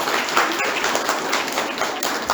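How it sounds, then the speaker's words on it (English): A school concert audience applauds young performers, a busy, fairly loud and continuous clatter of many hands clapping close by, holding steady throughout. "Give them a round of applause."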